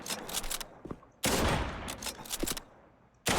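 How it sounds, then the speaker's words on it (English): Kar 98 bolt-action rifle shots in a first-person shooter video game, a few loud, sharp blasts with ringing tails, spaced well apart and heard alone. "the Kar 98 is the best damage-dealing weapon for all cases"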